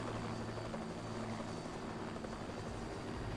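An attack helicopter in the video game Just Cause 2 chops steadily close by, a dense low rotor thrum with broadband engine roar that holds constant throughout.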